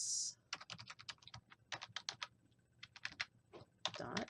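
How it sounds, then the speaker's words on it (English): Rapid bursts of computer keyboard typing in uneven clusters with brief pauses, close and fairly quiet, with no talking. "I'm just going to start typing"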